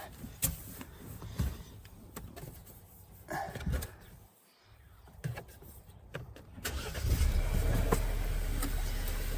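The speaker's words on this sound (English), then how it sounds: "now we just need to start the car" A car is started in a parked interior: a series of clicks and mechanical thumps lead into the engine catching, then a steady idle rumble holds to the end.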